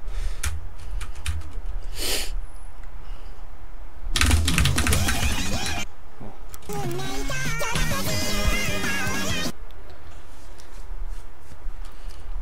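Fast typing on a Magic Force computer keyboard, with dense clattering bursts of keystrokes in several runs separated by pauses, close and loud against a steady background hiss.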